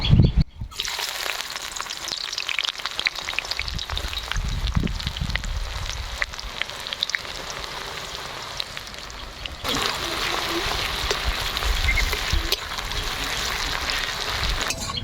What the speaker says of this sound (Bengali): পেঁয়াজগুলো আমরা লাল লাল করে ভাজি নিব